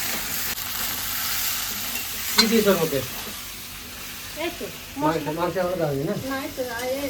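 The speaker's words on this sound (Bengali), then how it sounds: "সামান্য কাশ্মীরি লঙ্কার গুঁড়ো ভালো করে ভেজে নেবো" Kashmiri chili powder fries in a pan for a jackfruit and chicken dish, a constant close sizzle with stirring scrapes running underneath, while someone speaks over it in short phrases.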